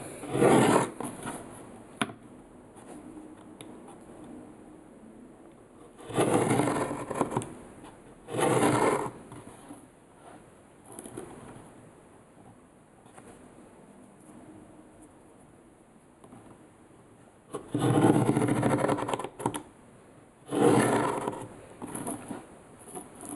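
A tool scores a grid of lines into a wooden icon board, giving close, gritty rasping strokes in separate bursts of a second or two, with quiet pauses between them and no speech.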